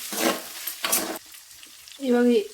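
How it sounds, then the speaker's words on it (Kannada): Garlic paste frying in a pan with onion and green chili, heard as two short bursts of sizzling and stirring, then a brief voice near the end. "ಈಗ ಒಂದು ಸ್ವಲ್ಪ ಇದಕ್ಕೆ ಅಲ್ಲ ಬೆಳ್ಳುಳ್ಳಿ ಪೇಸ್ಟ್ ಹಾಕ್ಕೊತೀನಿ. ಚೆನ್ನಾಗಿ ಹಸಿ ವಾಸನೆ ಹೋಗೋರು ಫ್ರೈ ಮಾಡ್ಕೊತೀನಿ."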